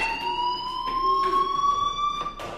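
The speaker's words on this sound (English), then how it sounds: "Hey, do you hear that fire alarm? That means you should be outside." A fire alarm rings in the video game Life Is Strange, a steady high electronic tone that holds for the whole stretch with a few short louder pulses cutting through it.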